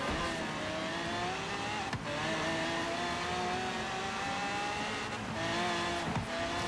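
A Dodge Viper race car in Forza Horizon 3 holds a loud, steady engine drone at speed, pitch slowly climbing through gears, with brief dips at shifts and faint tyre noise, no voices.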